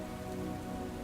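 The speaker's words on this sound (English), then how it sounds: "Its towers disappear behind curtains of rain." Steady, dense rain pours down during a storm around an old castle, a continuous close hiss of drops on surfaces with no pauses and no talk.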